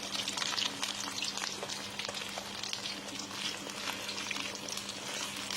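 Food sizzles steadily as it fries in hot oil until golden, with a dense continuous crackle and fine pops that hold even and close throughout with no voices.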